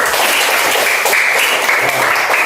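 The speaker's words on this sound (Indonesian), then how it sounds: "Tepuk tangan dulu." A classroom group claps together during a Quran recitation lesson, a loud, dense burst of applause lasting a couple of seconds with no voices over it.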